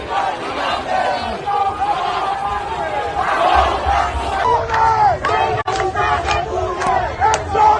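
Protesters packed into the streets yell and chant in a loud, close crowd roar that rises and falls, with sharp bursts of shouting throughout.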